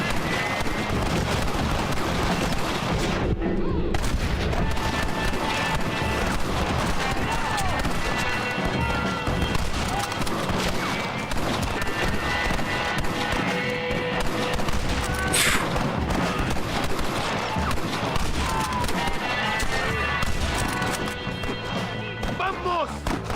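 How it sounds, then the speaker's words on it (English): Gunfire in Red Dead Redemption during a fight at a blockade, with repeated shots cracking through a dense, loud mix of hoofbeats, shouting and game noise, while a voice talks over it throughout. "Three shots."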